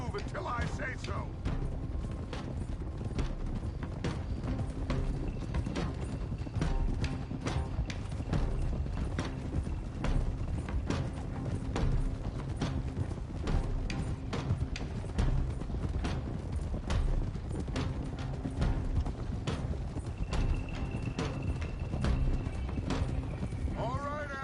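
Horses trot in the video game Red Dead Redemption 2, a dense, steady clip-clop of hooves that runs throughout with mechanical jingling and a brief whinny, while voices talk over it.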